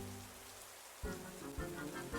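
Rain falling outside a home, a steady soft patter with a few louder drips or thumps toward the end, no voices.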